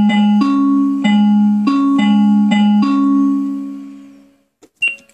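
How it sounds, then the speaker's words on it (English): Music box patch on a Wilson-Ross WR-5488 keyboard with sustain off, played as a steady run of six chiming notes that ring over one another and fade out together, then a short click. "Music box."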